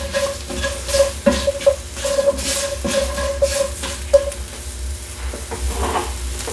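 Salted mushrooms sauté in a pan, a close sizzle punctuated by repeated scraping stirs and clanks of a utensil against the metal over several seconds, with no talking.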